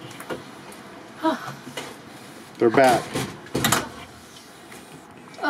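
An RV door banging in a New Mexico wind storm on Route 66, several loud irregular knocks and clatters with gusty wind noise, while someone talks close by.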